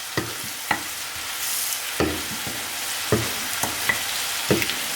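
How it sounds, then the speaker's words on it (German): Seasoned meat for Sultan kebab, dusted with salt, sweet paprika and thyme, fries in a pan while a utensil stirs it in a few distinct scraping strokes over a continuous sizzle. "jetzt alles nochmal umrühren"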